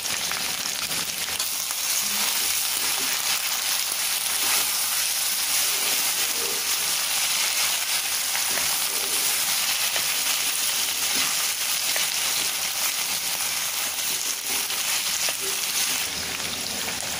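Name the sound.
potatoes frying in pan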